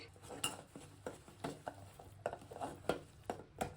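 Spoon clinking and scraping against a bowl while garam masala, oil and lemon juice are stirred together, a series of light, close metallic taps and knocks in an uneven rhythm.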